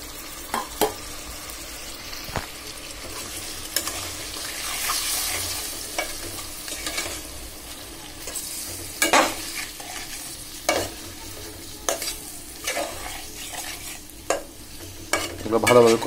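Hilsa fish heads and tails fry in spices in a pan with a low continuous sizzle, punctuated by frequent sharp scrapes and knocks of a spatula stirring the mixture.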